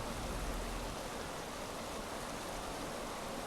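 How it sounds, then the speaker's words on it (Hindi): Babbling stream of flowing water in a natural outdoor setting, a steady, soft broadband rush of water with no voices. "इस पानी की जो कलकल धारा,"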